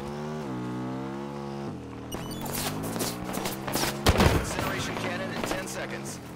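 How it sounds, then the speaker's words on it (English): Gunfire in a Halo 5 Big Team Battle match, sharp bursts of shots and impacts cutting in after a droning vehicle engine tone, with a loud blast near the middle and rapid crackling afterward. "Why is my own teammate shooting me?"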